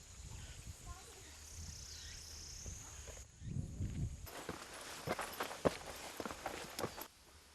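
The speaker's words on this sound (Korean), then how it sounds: "이제 여기서부턴 꼼짝없이 걸어 올라가야 합니다." Footsteps on a steep mountain path high in a remote Chinese mountain region, crunching in an uneven rhythm over rustling ground noise, steady and fairly close, with a denser burst of steps in the second half.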